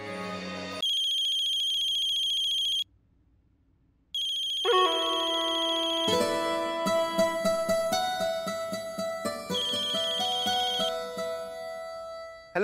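Phone ringtone playing a melodic electronic tune, a steady tone that breaks off in brief silence, then resumes as a fuller chiming melody with layered notes, clear and alone without talk.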